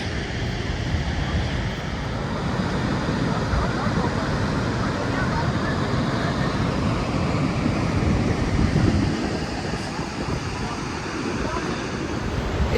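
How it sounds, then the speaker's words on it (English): La Chute waterfall in Quebec gives a loud, continuous rushing roar of falling water that fills the whole span, with wind buffeting the microphone throughout. "This waterfall here is a larger drop than Niagara Falls."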